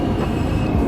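Rumbling Manhattan-bound Q local subway train in the OpenBVE train simulator, a steady low rolling drone with a faint constant whine, continuous and close throughout.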